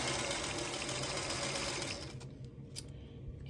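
A sewing machine stitches small quilt block segments together, running at a steady, even hum for about two seconds before it stops, leaving a quiet room with faint handling noises.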